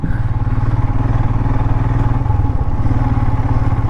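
Adventure motorcycle riding up a hill road, its engine a loud, close, steady pulsing drone throughout with no voices.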